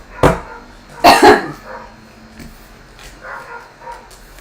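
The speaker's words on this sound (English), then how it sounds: "Those dogs better hush really quick." Two loud, close dog barks sound near the start, followed by fainter, more distant barking and yips over quiet room noise.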